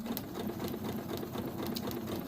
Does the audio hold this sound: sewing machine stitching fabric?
yes